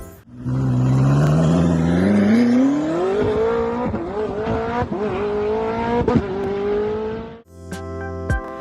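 Koenigsegg supercar engine climbs loudly through the revs in one long pull, then shifts and keeps surging with brief tire chirps before cutting off abruptly into a short separate burst of engine noise.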